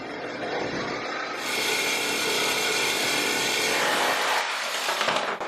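Power drill boring a large hole through a solid brick wall, a loud continuous grinding roar that holds steady for several seconds before tapering off.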